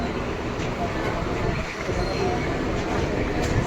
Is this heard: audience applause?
no